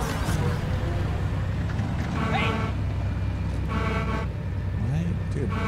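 A vehicle horn toots in Halo 2 on the Metropolis level, short honks sounding over game engine noise while players talk.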